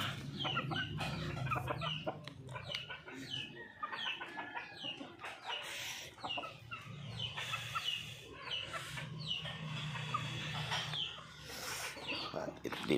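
Chickens cluck and murmur close by, with scattered squawks over a busy farmyard background, fairly quiet overall.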